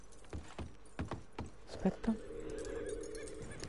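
A horse in the Red Dead Online video game gives soft clip-clop hoofbeats, followed by a faint neigh, all fairly quiet, with a brief voice speaking.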